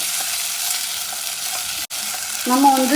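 Mani kozhukattai, small rice dumplings, tumbling in hot oil in a pan, giving a steady broadband sizzle with stirring scrapes; a short break near two seconds, then brighter clinks and a louder fry at the end, with a brief spoken phrase.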